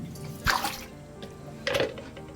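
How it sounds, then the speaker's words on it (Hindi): A cloth suit being rinsed by hand in a tub of water, with two separate splashy sloshes and drips, fairly quiet and close, with no talk. "4 बार तो मैं इस पानी में निकालती हूँ, जब तक ये साफ ना निकले"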